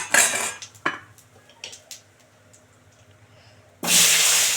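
Potatoes added to hot oil with cumin and bay leaf: a few sharp utensil clinks and taps against the pan, then a sudden loud burst of hissing sizzle at the end.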